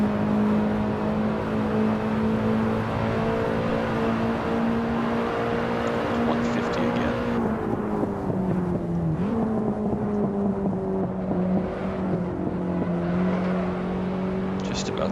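Racing engine of a BMW E30 M3 in the Assetto Corsa driving game, a steady loud drone holding pitch, then dipping briefly mid-clip during a gear change before settling again, continuous throughout.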